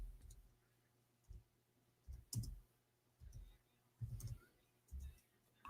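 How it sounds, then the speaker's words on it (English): Sharp clicks from a computer keyboard being typed on come in short bursts about once a second, close and moderately loud, mixed with low murmuring speech. "I'm typing in English."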